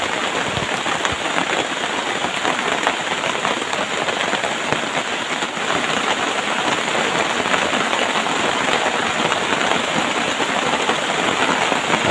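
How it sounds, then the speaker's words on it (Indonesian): Heavy rain pours down steadily and loudly in a forest, a dense continuous roar of drops on surfaces with no other sounds breaking through. "Gemuruh hujan semakin kencang."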